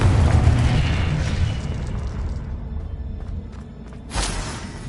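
A Confringo blasting spell detonates in Hogwarts Legacy with a loud, booming explosion at the start, decaying into a rumble, followed by a second smaller burst near the end.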